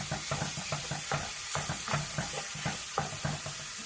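Ground sausage meat fries over medium heat in a pan while a utensil breaks it up. Steady close sizzling runs throughout, with a regular rhythm of scraping, knocking stirs and no voices.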